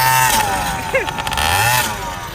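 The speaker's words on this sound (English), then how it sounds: "Full-on scooter moped gang right now." A group of scooter mopeds riding together in Florida, their small engines buzzing and revving close by, pitch rising and falling as they pass, with voices and shouts around them.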